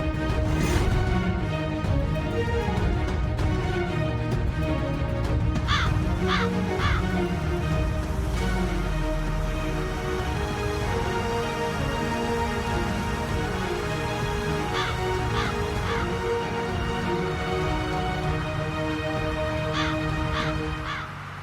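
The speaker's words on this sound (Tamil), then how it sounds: "உனக்கு வழிகாட்ட வந்த காக்கா அது கார் பின்னாடி தாமா கத்துது" A crow caws repeatedly from behind a parked car outdoors, with harsh calls coming in clusters at a moderate distance over a steady background hum and no speech.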